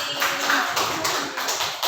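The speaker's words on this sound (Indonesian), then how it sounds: "Tepuk tangan untuk Ibu Siwi." Clapping for a presenter during a school positive-culture dissemination session, a light scatter of hand claps from a small group, steady and fairly close for a couple of seconds.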